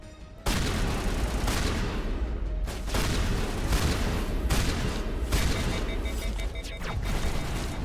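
Shotgun fire in the video game Mass Effect Legendary Edition: loud, dense bursts of blasts and booms follow one another almost continuously, with brief lulls and a short faint moment at the very start.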